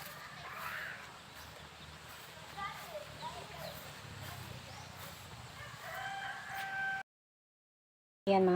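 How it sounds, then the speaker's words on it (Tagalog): Chickens and a rooster on a Filipino family farm at midday, with scattered crowing and clucking over background noise and a voice, then a short gap of silence near the end. "Na naman po yung mga manok."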